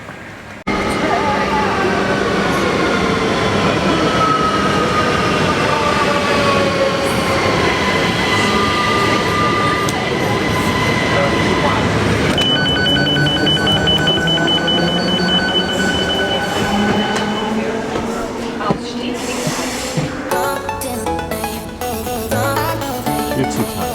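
An S7 regular train running into Vienna, a steady loud rumble of the carriage with whining motor tones that rise and fall, and chiming signal tones near the end.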